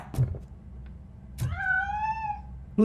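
Cat in the video game RoboCop: Rogue City gives one drawn-out, wavering meow in the middle, with short thumping clicks before it and at the end, and no speech.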